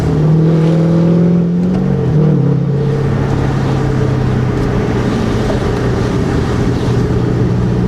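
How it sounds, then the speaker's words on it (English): A 3V Ford Mustang's exhaust drones loud and close on a wet, rainy road, holding a steady low rumble as it pulls away, with the pitch dipping briefly early on. "So we gotta keep hearing that exhaust."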